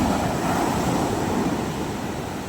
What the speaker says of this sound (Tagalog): Ang lalaki nating alon